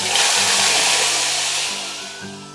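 Fresh coconut water poured into hot caramelized sugar for braised peppered pork, a loud rushing hiss that gradually fades over a couple of seconds.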